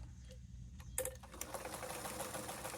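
A sewing machine chain-pieces quilt fabric with a steady, fast mechanical whir and rapid needle ticking, running continuously and fairly quiet, with a brief bump of handling partway through.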